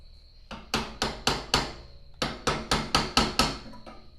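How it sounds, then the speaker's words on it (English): A hammer drives a small chisel to cut a mouth line into metal for a ram's head, giving about a dozen sharp, ringing taps in two steady rhythmic runs, close and clear. "Got a little chisel line here for the mouth."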